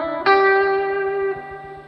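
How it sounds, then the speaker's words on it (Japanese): An electric guitar note rings out through a Roland JC-120 amp with reverb, a single loud plucked tone sustaining and decaying into a lingering wash, over a faint steady rhythmic ticking. "これにねリバーブもねちなみにかけれます"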